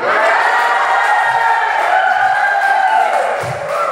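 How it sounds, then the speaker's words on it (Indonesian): A loud, sustained crowd roar of cheering and clapping that holds steady throughout, close and dense, from a stand-up comedy show audience at an Indonesian Independence Day event. "Berikan tepuk tangan untuk Bu Lili."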